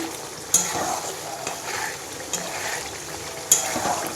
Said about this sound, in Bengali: আর এদিকে আলুর দম কষাচ্ছি একদম নিরামিষ আলুর দম